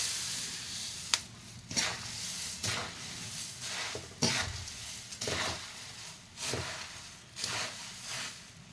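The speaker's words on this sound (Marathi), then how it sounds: "गॅस बंद करायचा आहे आणि पूर्ण हलवून घ्यायचा आहे" Puffed rice tossed in a pan with peanuts, turmeric and salt for bhadang, heard as soft, fairly quiet rustling sweeps of stirring that repeat about once a second over a faint background hiss.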